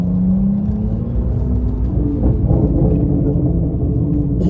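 A Mercedes C63 engine with stage 2 downpipes rumbles deep and loud nearby, its exhaust droning steadily with a slight rise in revs.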